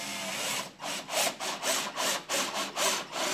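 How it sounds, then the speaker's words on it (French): Countersink bit pre-drilling pilot holes in wood boards for a humid bathroom cabinet build, giving about six short rasping bursts in a steady rhythm, close and fairly loud with no talking. "Préforez d'abord vos points d'assemblage avec une fraise à chanfreiner"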